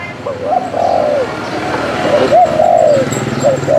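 Repeated cooing from a caller dove used for bird trapping, close and loud, with several rolling coo phrases in a steady rhythm.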